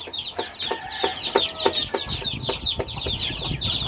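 Chicks on a farm peep in a steady run of short, high cheeps, close and fairly loud, over a low rumble of background noise and with no one talking.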